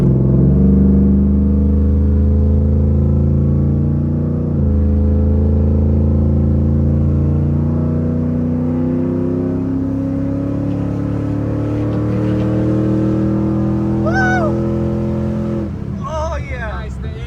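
A 408ci stroker LS V8 in a Trans Am with Holley Terminator X fuel injection revs loudly and close, holding a steady roar, stepping up in pitch, then dropping away near the end while people talk briefly.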